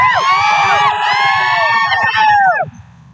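A political rally crowd shouts and cheers loudly, with many voices whooping together in a dense, sustained roar that drops off sharply near the end.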